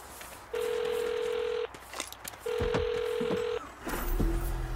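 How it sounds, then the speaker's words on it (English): A phone dialing a number in the video game Saints Row, two long dialing tone bursts separated by short clicks and beeps, then a softer ring tone starting at the end, clear and close. "Let's call the number on all those billboards and find out."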